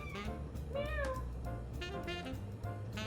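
A house cat meows several times in a row, clear rising and falling calls close to the microphone over a low background hum.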